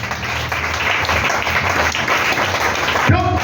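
A church congregation applauds in praise, a dense sustained wash of many hands clapping from a large crowd, steady and fairly loud throughout with a brief change near the end.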